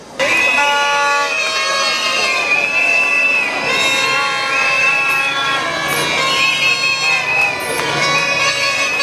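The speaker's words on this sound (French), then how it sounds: "sous vos applaudissements" A crowd cheers loudly at a university graduation ceremony, with continuous shouting and blaring horn-like toots sustained throughout, the audience noise staying dense and close.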